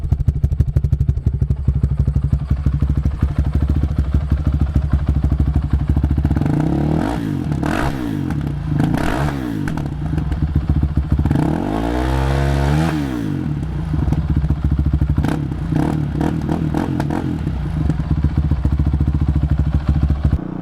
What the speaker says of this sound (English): This is the Graves exhaust with no end cap.